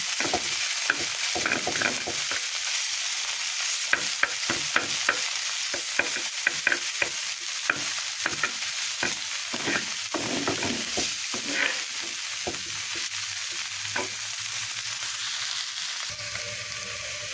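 Freshly picked rooftop-garden spinach is stir-fried and tossed in a pan, a continuous close sizzle punctuated by rapid, irregular scraping and clattering strokes of the utensil, with no talking.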